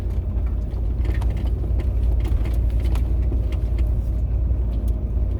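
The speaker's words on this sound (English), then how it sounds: "I've got the hill descent on." Off-road vehicle creeping down a forest hill in Oregon with hill descent control engaged: a loud, steady low engine and drivetrain rumble with continuous crunching, bumping texture from the ground beneath, no voices.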